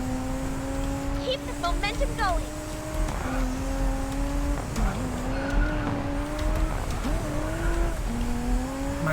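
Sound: Lotus Exige race car engine and tire squeal, video game Racing Master

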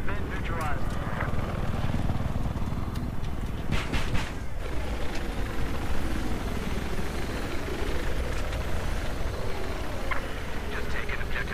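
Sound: helicopter in a video game

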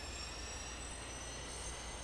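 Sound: F-4B jet engines running up on carrier catapult, flight simulator game

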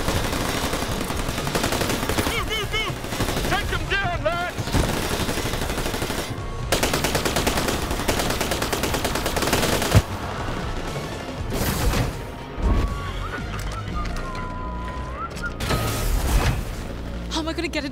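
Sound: gunfire in video game New Tales from the Borderlands

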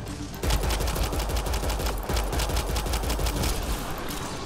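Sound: gunfire from a gun in Mass Effect: Andromeda video game

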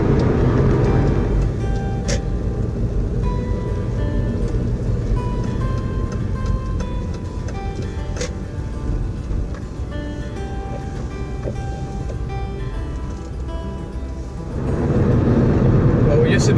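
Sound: car driving on a road

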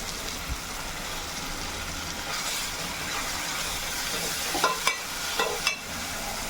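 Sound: ground paste mix poured into sizzling beef curry gravy

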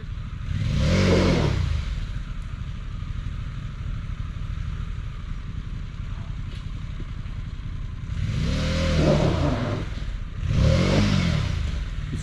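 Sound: Harley-Davidson Pan America heavy motorcycle chugging along

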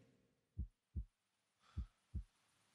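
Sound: heartbeat sound in Medusa's Labyrinth video game

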